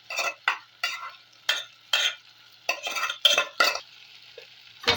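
A pot of Kenyan egg stew with precooked eggs being stirred: about a dozen short scraping, clinking strokes in an irregular rhythm, close and fairly loud, with no talk.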